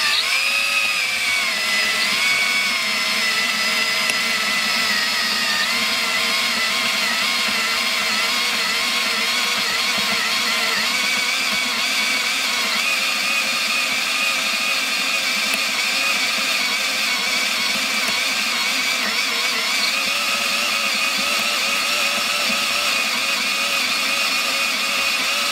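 Power drill boring hard into wood while making dowels, a loud continuous motor whine held under load for the whole stretch, pitch dipping slightly as the bit bites, with no talking.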